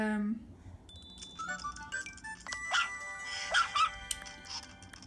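Dogs in the Nintendogs handheld game, a string of short electronic chimes, tones and chirpy yips scattered over a soft background hum.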